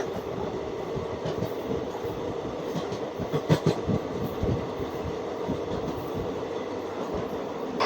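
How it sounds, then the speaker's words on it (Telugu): A passenger train running from Tirupati toward Chennai gives a continuous rumble with rhythmic clatter of the wheels and brief metallic squeals, loud and close throughout. "ఇక్కడ చూడండి, మన ట్రైన్ ఒకవైపు వెళ్తుంది, ఇంకొక ట్రైన్ అయితే మరోవైపు వెళ్తుంది."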